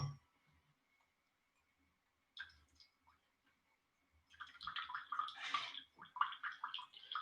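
Water trickles and splashes in short, faint bursts as hot water is poured for pour-over coffee, with small clicks and drips between pours and a quiet stretch early on.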